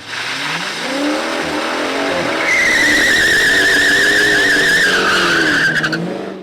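A modern street Hemi drag car launches hard down the Milan Dragway strip, a loud rising engine roar with tire squeal that holds steady for several seconds before trailing off.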